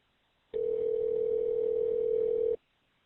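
A single steady telephone tone on a recorded 911 call lasts about two seconds, then cuts off abruptly. It sounds clean and continuous, with no voices.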